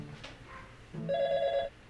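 A telephone ringing indoors in a family home, one clear electronic ring burst of about two thirds of a second, near and fairly loud, following a brief soft sound with no speech.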